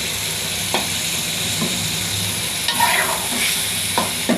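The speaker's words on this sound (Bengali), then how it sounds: "বাটা মশলাটাও ভাজা ভাজা হয়ে গেছে তেলের মধ্যে" Ground spice paste frying in oil for beef curry, a close, steady sizzle with occasional stirring scrapes and knocks.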